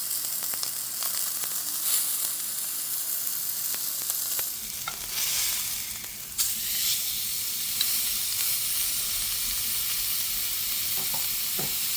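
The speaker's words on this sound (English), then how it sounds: "So you want to sear your steak for about 3 minutes per side" Filet mignon steak sears in a hot pan with butter, giving a steady, close frying sizzle with soft crackles and spits for the whole stretch and no voices.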